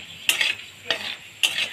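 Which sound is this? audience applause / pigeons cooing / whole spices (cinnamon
whole spices (cinnamon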